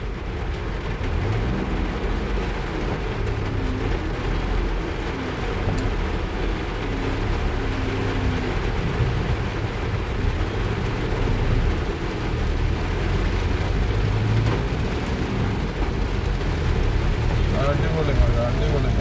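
Heavy rain pours on a car driving through a downpour, a dense, constant roar of water and road noise filling the cabin without letup.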